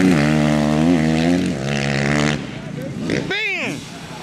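An alcohol-fueled motocross bike engine at a race track gives a loud, steady buzzing drone that wavers in pitch, then drops and fades as voices talk nearby.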